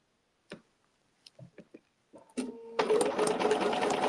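Sewing machine stitching a petal design, preceded by a few scattered clicks and taps as the presser foot is set, then a sudden loud, steady mechanical whir of stitching.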